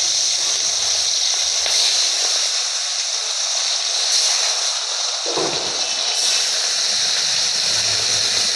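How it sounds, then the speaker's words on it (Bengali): Pieces of bhetki fish fry in hot oil, giving a loud, steady sizzling hiss that carries on without pause, with a faint low thump partway through. "তেলটা গরম হয়ে গেছে। তো এই মাছগুলো এবারে একটা একটা করে ভেজে নেব।"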